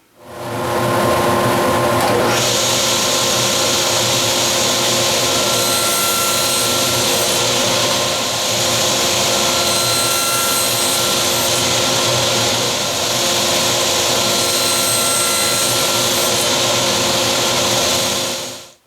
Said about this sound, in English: So go ahead and cut those pieces over at the table saw.